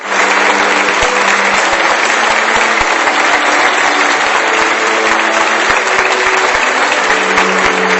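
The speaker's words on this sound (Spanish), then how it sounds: "sus amigos y familiares lo recibían con aplausos" Sustained applause from friends and family at a memorial gathering, steady and dense clapping filling the whole stretch at close range, with no voices standing out.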